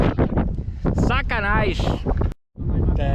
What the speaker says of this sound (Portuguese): o vento bateu na hora exata que tava marcado